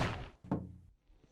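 Banging on a door in a video game sound effect: two heavy thuds with a short echoing decay, the second louder, followed by a faint tap.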